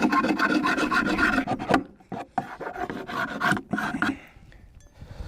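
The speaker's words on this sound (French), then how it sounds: "vous prenez votre lève-cadre du côté plat et là vous pouvez gratter aussi dans les angles" Rasping scrapes from a flat-sided hive tool working into the corners inside a wooden beehive during cleaning, a busy run of close, repeated strokes with short pauses between bursts.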